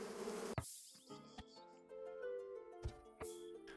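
Bees buzzing around a beehive in the medieval colony-building game Going Medieval, a faint steady hum broken by several soft clicks and taps.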